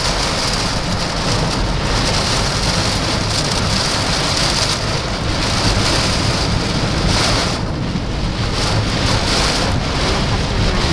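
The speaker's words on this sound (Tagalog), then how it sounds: "Ayan na, mas malakas na ngayon yung bagyo." Heavy typhoon rain and gusting wind lash Sta. Cruz, Laguna during Typhoon Aghon, a loud, steady roar that fills the whole stretch without pause.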